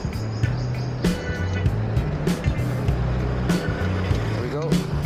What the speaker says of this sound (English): let's wait for the motorcycle to arrive